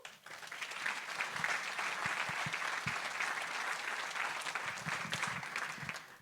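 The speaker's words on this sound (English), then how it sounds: "give yourself a big round of applause" An audience bursts into sustained applause, dense clapping from many hands that swells quickly and holds steady for several seconds.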